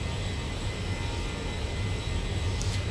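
Exterior engine sound of a Boeing 737-700 in the X-Plane 11 flight simulator, a steady loud broadband jet roar and low rumble that holds constant throughout with no voices.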